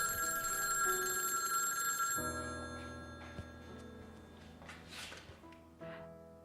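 A telephone bell rings insistently for about two seconds, then stops, leaving a quieter room with a few faint clicks and rustles afterward.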